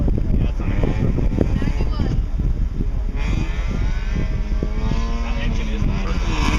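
A loud engine drones and revs steadily beneath overlapping conversation, its pitch shifting as it runs.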